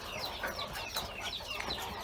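Laying hens cluck softly in a poultry coop, a faint, continuous murmur of overlapping short clucks with no voices.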